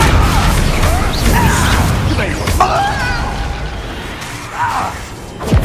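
Confringo blasting spells going off during combat in the video game Hogwarts Legacy, loud crackling bursts and whooshes piled into a dense, continuous roar, with voices talking over the action.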